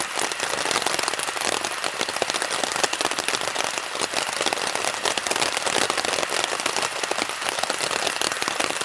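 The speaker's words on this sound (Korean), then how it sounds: "숲속에서 이 빗소리 들으면서 산행 북은 또 처음인가?" Rain patters steadily on a camping tent in a Jeju Island forest, a dense, even hiss of drops close overhead with no voices.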